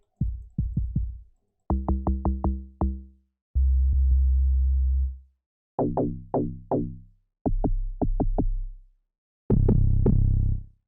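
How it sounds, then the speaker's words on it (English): Deep, punchy amapiano log drum bass notes in quick rhythmic bursts, bouncing pitched thumps with a sustained low tone between phrases, played alone. "Check the log drums. Guys, these log drums are crazy. Listen to them."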